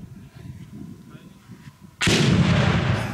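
A 40mm grenade launcher fires an exploding round: after a quiet stretch of low background murmur, a single sudden heavy boom erupts and rumbles on loudly.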